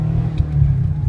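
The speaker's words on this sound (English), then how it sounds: "We'll let you hear the exhaust." A 2012 Subaru Impreza WRX with an aftermarket exhaust idles close by with a deep, steady low rumble and a slight uneven burble, and no talk over it.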